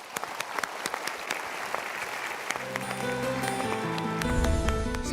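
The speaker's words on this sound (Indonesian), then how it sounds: "Kita berikan tepuk tangan dulu" Audience claps during a motivational talk, scattered sharp hand claps that give way to a sustained round, with tonal music or chimes rising underneath toward the end.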